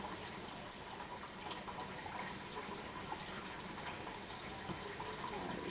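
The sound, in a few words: pouring sodium hydroxide into distilled water for soapmaking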